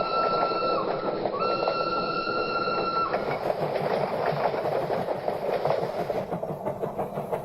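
A train runs on rails in a first-class carriage bound for Gaya in a ghost story, with a steady rumbling clatter throughout and a sustained whistle-like tone over the first three seconds.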